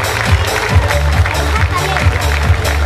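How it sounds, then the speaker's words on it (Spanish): A stadium crowd in Chivilcoy applauds women being honored at a Women's Day tribute, a steady rhythmic clapping and stomping running under a loud voice on a public address system. "Así que le damos otro fuerte aplauso."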